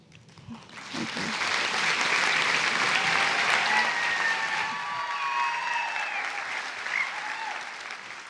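An audience at the She Speaks 2026 women's business event in Comox Valley claps in sustained applause that swells and holds, with a few whistles cutting through the crowd noise.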